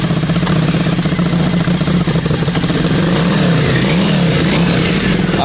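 A Yamaha Virago 535 motorcycle engine idles close by with a steady throbbing rumble, punctuated by uneven spitting pops from the carburetor as it runs.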